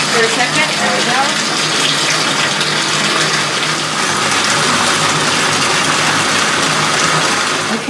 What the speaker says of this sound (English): I'm going to let the water fill so I get about 3 inches of water